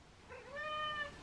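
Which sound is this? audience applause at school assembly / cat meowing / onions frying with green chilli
cat meowing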